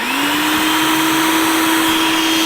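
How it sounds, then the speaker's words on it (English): A kitchen blender runs steadily, mincing onion with olive oil for a salad dressing, its motor holding one loud, even whine that rises briefly at the start and then stays constant throughout. "we'll just blend it until most of the onion is nice and really minced up small"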